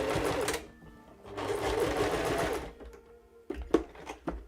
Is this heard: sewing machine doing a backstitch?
yes